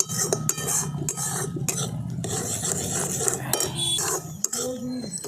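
A spatula scrapes and stirs spices with turmeric, cumin and coriander powder in a frying pan, a continuous rasping, clinking scrape close by, with no clear talk.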